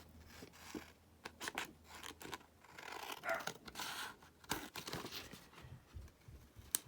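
Scissors snipping through paper in a series of quick, uneven cuts, with rustling between the snips, close and fairly quiet.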